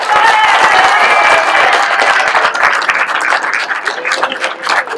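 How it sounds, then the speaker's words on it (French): A crowd at a Tour de Bretagne cycling event in the town of Sérent applauds cyclist Nolan Laudo, loud close clapping with cheers and voices mixed in, gradually thinning toward the end. "on enlève les mains des poches et on applaudit Nolan Laudo"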